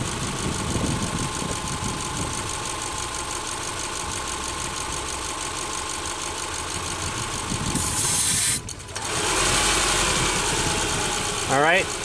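A car engine idles steadily with an intake hose pulled off, a constant rumble under a broad airy hiss, with a brief surge of rushing air near the end.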